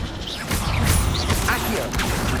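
The Incendio fire spell from Hogwarts Legacy bursts out in a short, crackling whoosh with a hard impact edge, lasting about two seconds over a busy game-battle background.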